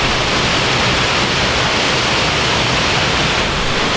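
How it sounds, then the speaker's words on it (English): A large, violent waterfall on Mount Rinjani in Indonesia roars as a loud, constant wall of rushing water, close and unvarying throughout. "now that's one big waterfall, rather violent from what I can see"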